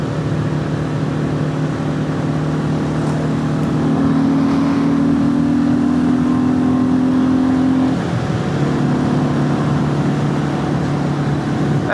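A Royal Enfield Classic 350 motorcycle rides along on a cold evening, its engine droning steadily and loudly with a rising tone in the middle as it pulls harder, then settling back.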